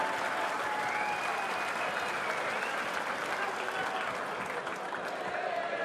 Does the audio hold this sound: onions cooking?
no